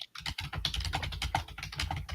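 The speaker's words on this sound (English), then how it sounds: "what are you typing?" Someone types on a computer keyboard close by, with rapid, continuous clicking keystrokes and no talking.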